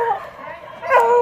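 A dog yips and whimpers in short, high bursts nearby, with a louder whining bark near the end, mixed with a person talking indoors.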